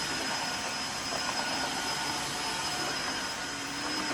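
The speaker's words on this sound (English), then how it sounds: "And then as it's sweeping, mopping, vacuuming, it's also cleaning the floor." Tineco hard floor cleaner vacuuming and mopping a hard floor, a loud continuous close-up motor whine and suction roar that stays constant throughout with no speech.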